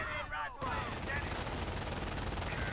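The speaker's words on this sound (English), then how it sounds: "my opponent has an MG42 shooting at my 2 rifle squads over here" An MG42 machine gun in the strategy game Company of Heroes fires sustained, rattling bursts that run almost without a break. The gunfire is loud and dense, with a brief softer moment near the start.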